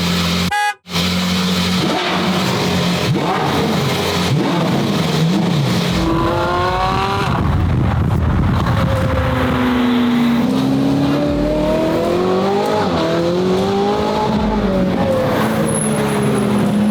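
A steel-gray Porsche on gold HRE wheels with its engine revving, rising and falling pitch sweeps close and loud over a rumbling background, opening with a sharp thump.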